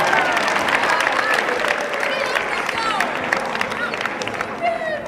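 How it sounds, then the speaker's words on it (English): Applause from a high school audience at a comedy hypnotist show, a sustained crowd clap with some cheering and murmur mixed in, loud and continuous. "Just give them a round of applause for being a good sport now."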